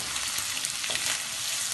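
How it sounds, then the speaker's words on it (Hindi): Carrots hit a hot pan for vegetable fried rice, giving a brief, dense, even sizzle up close with no talking. "अब मैं इसमें ये गाजरें डाल दूंगी और फ्लेम जो है वो थोड़ा सा स्लो कर लूंगी मैं"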